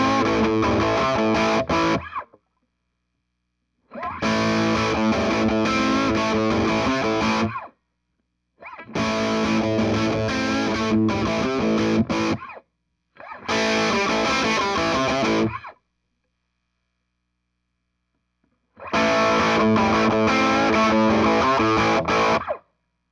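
Electric guitar runs through a Wampler Pinnacle Deluxe distortion pedal on its modern side, all controls at noon. It plays thick, saturated high-gain riffs in several loud bursts separated by silent gaps, with no voice.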